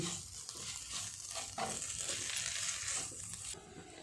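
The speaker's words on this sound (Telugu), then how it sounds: "ఇలా వేసుకున్న తర్వాత మళ్ళా బాగా కలుపుకొని మరి కొంచెం వేగనివ్వాలి" Spiced masala for a country chicken curry fries and crackles in a pan while being stirred, a steady close sizzle with scraping strokes throughout, no talking.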